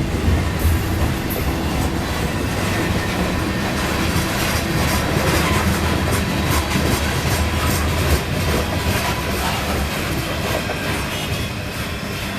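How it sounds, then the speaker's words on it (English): Freight train 14R rolls north through Sunbury, a steady loud wash of rumbling wheels and rattling cars with some clickety-clack, continuous for the whole stretch and no voices. "This train is the 14R and is moving north through Sunbury"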